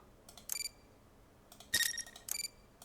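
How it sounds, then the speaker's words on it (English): A camera shutter sound effect plays back in Unreal Engine 5 MetaSounds, giving three short, bright mechanical clicks spaced about a second apart, the middle one the loudest, against a quiet background. "Camera shutter, I guess, sounds okay"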